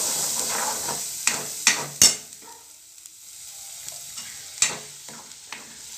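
Spice masala sautéing in oil for a homemade chana bhaji, with a steady soft sizzle broken by several sharp scraping knocks of a spoon stirring against the pan, close and clear with no talking.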